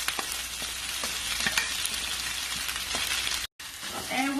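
Noodles being stir-fried in a home kitchen pan, a steady loud sizzle broken by scraping stirs, with a brief drop to silence near the end before the frying resumes; no talk.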